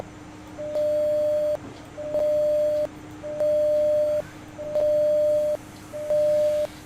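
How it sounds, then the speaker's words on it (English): A buzzer wired to a microcontroller switch sounds a clear, steady mid-pitched tone while the switch is held, repeating five times in roughly one-second bursts separated by short gaps over a low electrical hum. "When I will press this switch, the buzzer should make sound."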